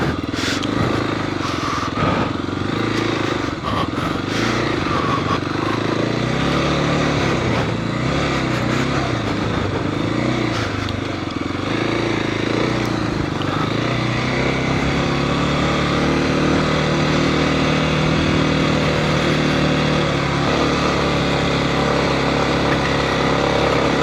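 A Kawasaki KLX300 dirt bike engine drones steadily and close up while it climbs a rough, whooped-out single-track trail in the Nevada mountains, with its pitch rising and falling under throttle and no break in the running.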